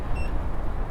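Begode C8 electric unicycle giving a brief high battery warning beep early on, faint against loud, steady wind and road rumble while riding.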